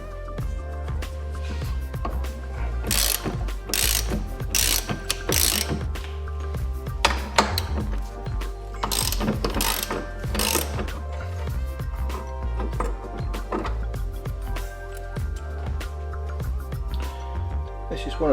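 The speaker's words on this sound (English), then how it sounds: "I think I'll undo these 2 bolts here" Ratchet undoing 24 mm bolts on a 3-ton Halfords or Sealey trolley jack, with repeated clicking bursts of the pawl under ongoing talk.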